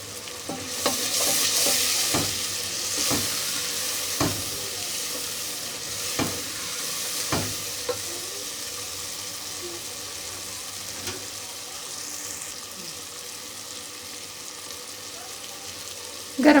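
Spiced chicken with salt and coriander powder frying in a pot for biryani, a continuous loud sizzle punctuated by regular knocks and scrapes of a spoon stirring, heard close with no voice.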